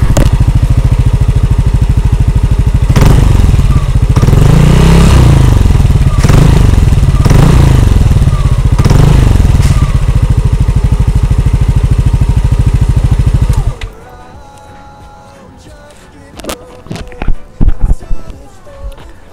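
A loud Yamaha motorcycle with a throaty ROB1 MegaBoom aftermarket exhaust revs repeatedly in rising bursts, then cuts to near quiet with a few sharp clicks and knocks.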